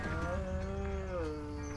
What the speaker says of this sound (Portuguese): Olha as vacas!